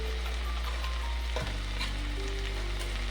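A potato mixture sizzles in a pot as it is stirred, a close, steady frying hiss with a clear scrape of the spoon partway through.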